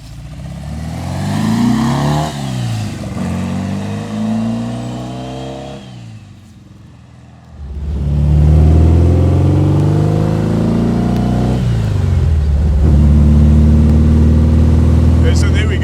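The engine of a 1955 Porsche 550 Spyder replica accelerates while driving, loud and close, its revs climbing and falling through gear changes, with people talking over the engine noise.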